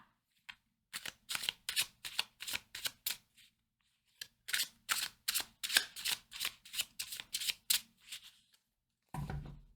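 Tarot cards shuffled by hand in two long runs of quick, crisp riffling bursts, close and clear, separated by a short pause, ending with a dull thump, no voices.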